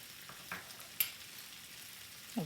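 A hamburger mixture with minced garlic being stirred in a frying pan, a faint sizzle underneath a few soft scrapes of the spoon, quiet and close with no voices.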